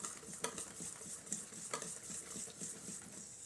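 A whole can of tomatoes being mixed into sauce in a bowl, with repeated wet scraping strokes of a utensil against the bowl and soft squelching, fairly quiet and close, no voices.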